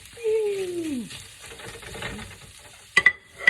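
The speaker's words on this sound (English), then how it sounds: "Mix the egg all up in there that you fried up." Fried egg being stirred into fried rice with chicken in a pan, a close scraping stir with a soft sizzle, closing on a few sharp clinks near the end.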